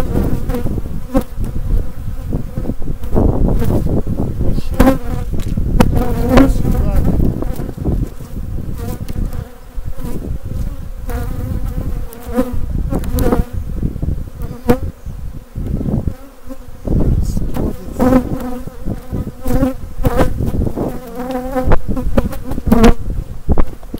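Honey bees in an apiary, a dense loud buzzing swarm close by that rises and dips continuously throughout, with no talking.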